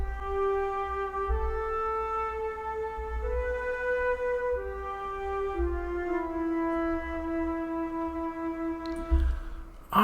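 A sampled flute from the Musio virtual instrument plugin plays a slow, soft melody of sustained, breathy notes stepping down and back up, alone and fairly quiet, ending with a brief noisy click.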